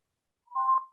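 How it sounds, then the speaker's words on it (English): A mobile phone goes off in a theater, a brief single electronic tone rising to a clear peak and fading within a second, alone against silence. "who got a phone going off?"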